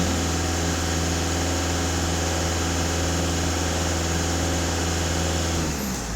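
A Skoda Octavia 2.0 TDI diesel engine idles with a steady, close, low rumbling drone and even knock that holds for about six seconds, easing slightly at the end.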